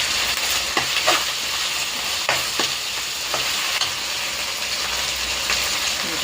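Ginger paste and green chillies fry in a pan with a steady sizzle, broken by repeated scraping strokes of a spoon stirring at a fairly even rhythm.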